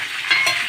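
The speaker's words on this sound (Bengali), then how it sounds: "এই যে পটলটা অনেকটাই ভাজা হয়ে গেছে।" Pointed gourd frying in oil gives a brief, steady sizzle that swells slightly for a moment, heard alone.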